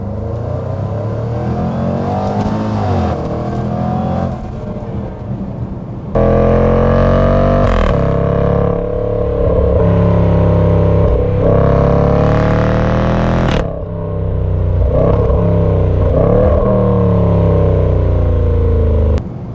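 A 2019 Jaguar F-PACE SVR accelerates hard, its loud, close engine climbing in pitch through repeated surges, with brief dips where the gears change.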